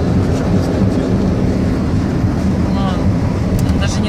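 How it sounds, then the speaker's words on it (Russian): A long Canadian freight train rolls past close by, a steady loud rumble with continuous broadband roar and wind buffeting throughout, no clear start or end. "Это видео посвящено гигантскому длиннющему канадскому поезду."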